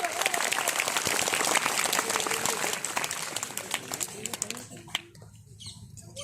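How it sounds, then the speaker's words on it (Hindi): An audience at a public address by a block chief at a school breaks into lively clapping, many hands loud at first, then thinning into scattered claps with some talk and murmuring underneath. "थोड़ा तालियां बजाते ना भाई।"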